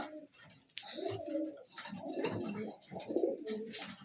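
Tournament pigeons cooing softly and repeatedly in a low, throaty warble, fairly close but quiet, with faint rustling around them.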